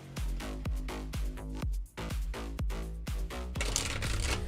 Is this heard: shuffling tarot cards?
yes